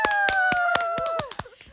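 A quick run of about nine hand claps, loud and close, in a steady burst that trails off into a few scattered claps, with a sustained tonal voice or note held underneath.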